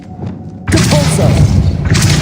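Depulso spell blast in Hogwarts Legacy: a loud, close boom with a thudding low rumble that bursts in suddenly after a quieter lead-in and keeps sounding to the end.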